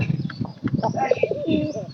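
A tikri-type pigeon cooing softly at close range, a short run of low throaty rolling coos with faint chirps nearby and a voice partly overlapping.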